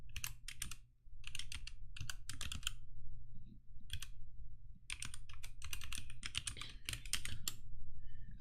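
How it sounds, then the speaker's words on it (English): Fingers typing on a computer keyboard, nearby key clicks in quick bursts and short runs separated by brief pauses, over a low steady hum. "so here, I'll type it in for you."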